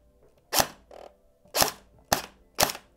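A Cyma CM.131 airsoft electric pistol fires four sharp, close single shots at uneven intervals, with a softer mechanical click between the first two.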